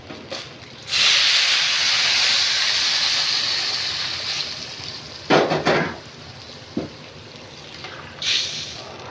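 Water poured into a hot pan of toasted rice sets off a loud, steady steam hiss that swells abruptly and holds for several seconds, then tapers, with a few short clattering knocks of utensil on pan near the end.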